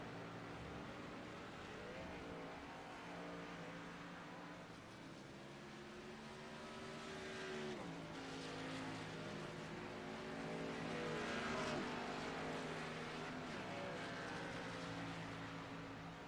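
Race cars in an auto racing event brake hard into a final chicane, their engines droning and shifting pitch as they slow and accelerate through, a steady moderately loud roar with no talk.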